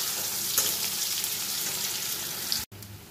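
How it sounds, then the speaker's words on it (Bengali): Chopped onion and garlic fry in a pan with a constant crackling sizzle and a few stirring scrapes, ending in an abrupt cut and a quieter tail. "পেঁয়াজ কুচি আর রসুন কুচি আমি খুব ভালো করে লাল লাল করে ভেজে নেব"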